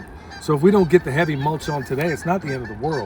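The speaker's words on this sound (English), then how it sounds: "That's geese. They're back." Geese honking outdoors in the background at a garden plot, faint calls running under a man's close, continuous talking.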